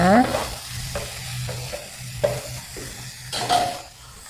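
White shimeji mushrooms stir-frying in a pan for a mixed-mushroom vegetarian dish, a steady close sizzle broken by repeated scraping strokes of a utensil against the pan.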